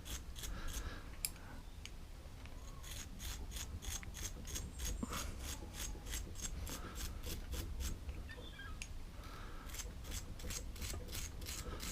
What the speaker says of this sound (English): I could get the wire brush on it maybe, just to see if it comes off